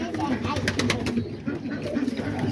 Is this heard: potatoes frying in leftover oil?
no